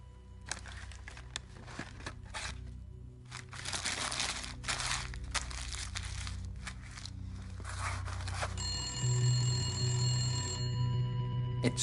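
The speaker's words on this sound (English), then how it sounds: "It's been ringing incessantly. Answer it." Rustling and crinkling lead into a telephone that starts ringing loudly near the end, sounding as a steady repeating electronic ring.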